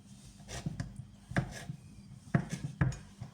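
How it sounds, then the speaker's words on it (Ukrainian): A knife cutting hard cheese on a board, with irregular sharp chopping taps in small clusters, close and fairly quiet, separated by short gaps. "Тепер беремо ріжемо твердий сир."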